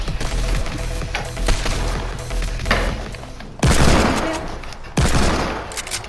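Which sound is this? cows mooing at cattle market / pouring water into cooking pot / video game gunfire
video game gunfire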